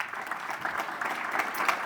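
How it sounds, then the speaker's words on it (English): Audience applause for a panel at a policy session on South Carolina infrastructure, a steady dense patter of clapping filling the room from start to finish with no voices on top. "Let's give them all a big round of applause"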